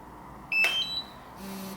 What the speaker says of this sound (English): every time it would start up, it'd be beeping like crazy